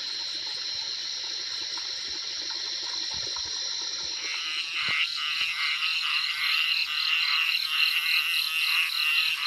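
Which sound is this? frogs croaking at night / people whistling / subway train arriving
frogs croaking at night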